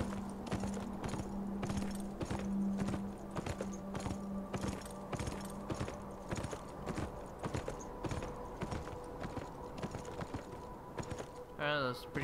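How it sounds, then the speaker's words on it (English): A horse's hooves clip-clop in a steady walking rhythm in the video game Beyond Two Souls, clear, repeated hoofbeats with faint mechanical background sounds and a short game noise at the end. "this horse is really stubborn"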